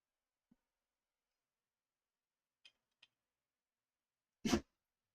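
Near silence with a few faint ticks, then one short, sharp sneeze from a dog near the end.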